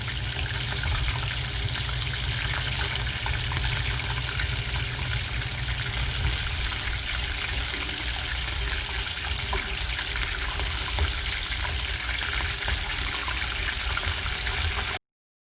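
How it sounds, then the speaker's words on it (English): Battered oysters deep-fry in hot oil with a steady, fairly soft sizzling and crackling sputter that continues evenly throughout, then cuts off abruptly. "Shake off the extra batter like we always do, and then drop them into the oil."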